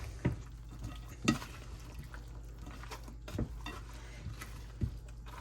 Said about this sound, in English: thoroughly mix all these ingredients up together now